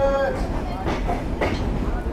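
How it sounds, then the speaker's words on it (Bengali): The Kapotaksha Express pulls away from Safdarpur railway station, its rails giving a close, steady rumble with faint rhythmic clatter and a brief horn-like tone at the start. "বিকেল 6টা 6 মিনিটে আমাদের ট্রেন ছেড়ে গেল সফদরপুর রেলওয়ে স্টেশন থেকে"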